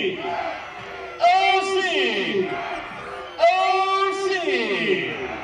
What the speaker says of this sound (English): And the crowd here trying to get more into this game.